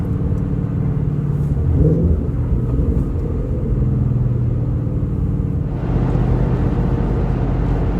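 A 2013 Ford Mustang GT with a Borla exhaust rumbles steadily from inside the car, its low exhaust note loud and continuous, with a rougher burst of burbling near the end.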